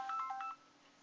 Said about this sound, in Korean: 지금 또 뭐 핸드폰 소리 나는데 잠깐 무음을 하고 계속 진행하도록 하겠습니다.